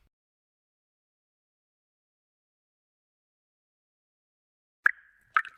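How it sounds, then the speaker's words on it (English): A dripping bathroom sink faucet lets fall two separate drops in an otherwise silent room, each a short, clear plop close by with a brief ringing tail. "The faucet's dripping."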